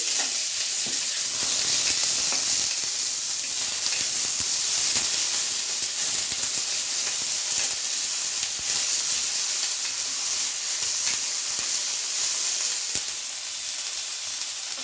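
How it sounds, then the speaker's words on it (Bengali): Chopped onion, green chilli and curry leaves fry for poha in hot oil, giving a continuous bright sizzle and hiss with occasional stirring scrapes, steady and close throughout. "এখন দিয়ে দিচ্ছি অল্প পেঁয়াজ কুচি, লঙ্কা কুচি, কারি পাতা দিয়েছি"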